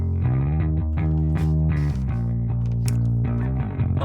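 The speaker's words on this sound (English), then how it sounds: "I have a bass sample here. This is a sample from Logic itself" A bass sample from Logic plays a thick, buzzing low line with short repeated notes and a few slides, steady and loud, heard alone without speech.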